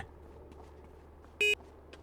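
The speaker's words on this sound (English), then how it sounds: "Still beeping that tractor." In Farming Simulator 25, a tractor's warning alarm gives a single short, clear electronic beep over faint background hum.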